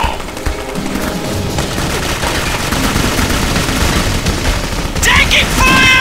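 Sustained gunfire in the shooter video game Jericho, a loud continuous rattle of automatic bursts with booms mixed in and a voice calling out near the end.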